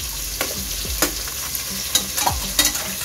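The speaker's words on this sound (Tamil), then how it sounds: "ஆனியன் நல்லா வதங்கணும் இல்லம்மா." Onions for chicken biryani fry in a pan with a steady sizzle, while a spoon scrapes and stirs in several distinct strokes, close and clear with no talking.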